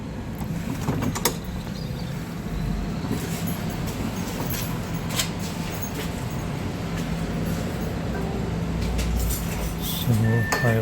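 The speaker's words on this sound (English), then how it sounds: "I went into the tram and it will now go to the particular place." Steady rumble and rattle inside a tram riding through Sofia, Bulgaria, with continuous rolling noise and occasional clunks and squeaks, faint voices of passengers in the background.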